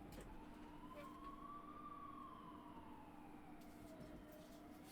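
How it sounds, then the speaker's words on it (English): An ambulance siren passes outside, faint and distant, its tone rising and falling in one slow wail beneath a steady background hum. "Hear that ambulance?"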